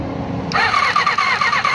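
A big motorcycle engine cranks and catches after a short buzzing lead-in, then settles into a steady, loud, close idle with a lumpy rhythmic pulse, heard while its CDI and carburetor are being worked on.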